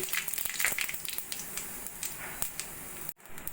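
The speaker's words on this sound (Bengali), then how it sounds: "ওই তেলের মধ্যে দিয়ে দেবো আমি জিরে তেজপাতা আর শুকনো লঙ্কা ফোড়ন" Cumin seeds, bay leaf and dried chilli tempering in hot oil for a Bengali bottle gourd dish, giving a steady close sizzle and crackle throughout with no talk.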